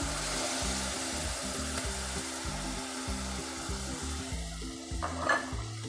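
Tomatoes hit ginger and garlic frying in a pan for aloo matar curry, then get stirred, with a soft sizzle under repeated low scraping strokes of a spoon, fairly quiet and steady.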